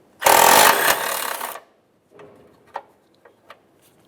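A 10mm socket on a power tool spinning off a ground strap bolt on a 2007-2013 Acura MDX during radiator replacement: a loud burst of about a second and a half, then a few faint clicks and taps.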